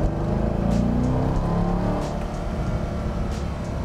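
A Corvette C5 Z06 sports car drives by, its loud engine rumble close at first and then holding steady with a slight fade over a few seconds.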